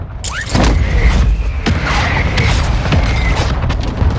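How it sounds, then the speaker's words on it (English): Mortar strike explosions in Call of Duty Warzone 2 hit in a rapid series of heavy booms. They are loud and close, with dense rumbling debris and a few sharper cracks layered over one another. "Mortar strike inbound."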